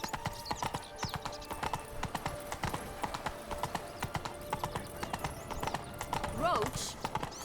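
Horses gallop with a steady, close clip-clop of hooves in The Witcher 3, with a whinny near the end, while voices talk over the hoofbeats.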